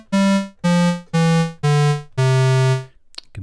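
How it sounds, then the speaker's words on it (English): Five buzzy, hollow square wave notes from an analog oscillator on the Thor synthesizer in a descending sequence, the last one held longer, loud and alone. "in the middle, the square wave sounds like this"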